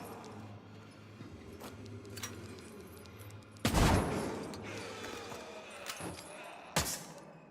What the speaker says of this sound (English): this is why we love shotguns in this household.